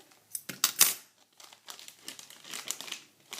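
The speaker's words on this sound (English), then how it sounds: "I'm just going to tear it actually, and then try to cut it from there" Raw vegan cookie package being torn open by hand, a close, crinkly burst of plastic tearing and crumpling with a few sharp rips, then softer rustling of the wrapper.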